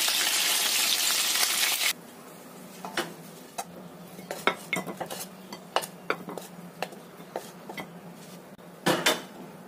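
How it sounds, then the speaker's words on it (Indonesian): Ginger and spring onion stalks are sautéed in a pan, a soft sizzle after a loud opening burst of hissing, punctuated by repeated clinks and scrapes of a utensil against the metal. "Ini kita tumis jahe dan batang daun bawangnya."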